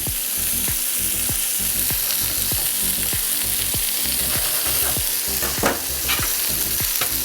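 Bacon sizzles steadily in a frying pan while being warmed for a cheeseburger, a dense close crackle and hiss with regular scraping strokes from stirring or shaking the pan, continuous and alone without voices.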